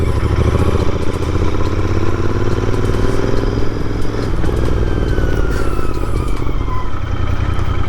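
A well-kept motorcycle engine drones loud and steady throughout the ride, with wind rush and light clatter over the continuous engine note.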